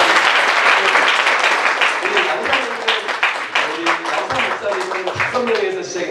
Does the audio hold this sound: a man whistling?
no